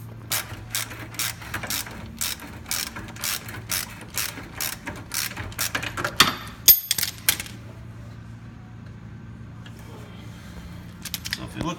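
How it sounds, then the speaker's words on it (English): A 1/2-inch drive ratchet clicks rapidly in repeated strokes on the subframe bolts of a Nissan S13, close and crisp, then a clank and quieter scattered clicks as the work slows, with talking at times. "So just using a breaker bar and then using 1/2-inch drive,"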